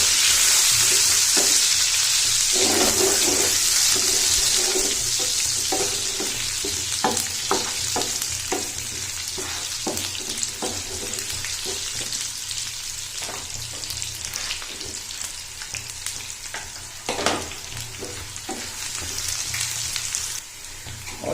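Garlic and ginger, cut into long strips, sizzle and fry in hot oil for a chana dal tadka, with a steady broad hiss throughout and scattered crackles and spoon stirring clicks close by.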